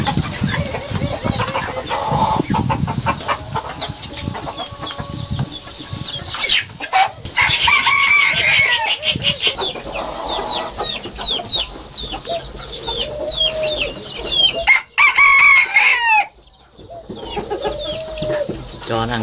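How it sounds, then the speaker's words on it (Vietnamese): Chickens cluck steadily and close by while a rooster crows several times, with bursts of other bird chirps and brief louder movement noises mixed in. "Gà với cô sống rất là thân thiện."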